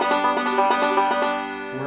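A banjo picked with the fingers at a quick tempo, a short burst of bright, rapid plucked notes ringing close with no talking.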